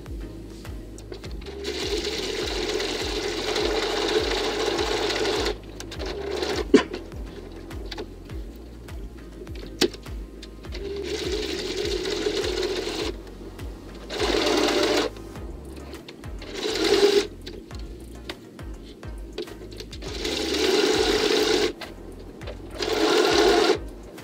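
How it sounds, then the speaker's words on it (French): A sewing machine stitches around the edge of a fabric face mask, running in steady bursts with short pauses and quick restarts, close and clear with no talking. "je vais commencer à coudre ici, faire tout le tour et terminer là"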